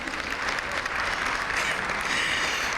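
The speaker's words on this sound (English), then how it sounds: "Can you clap right there for that?" Steady audience applause fills a ceremony hall, dense and even clapping from a crowd throughout, with no voices standing out.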